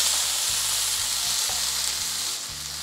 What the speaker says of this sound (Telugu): ఇప్పుడు ఇదే ప్యాన్లో కొంచెం ఆయిల్ తీసుకుంటున్నాను, జీలకర్ర, వెల్లుల్లి, గ్రీన్ చిల్లీస్, కొద్దిగా నువ్వులు,